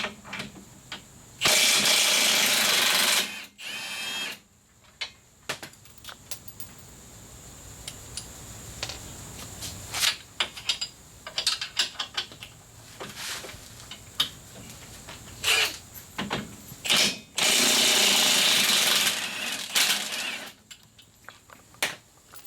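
An impact wrench with an 18mm socket works on suspension bolts of a Polaris RZR while radius rods are fitted. It gives two loud, sustained rattling bursts, with clanks and tool handling in between.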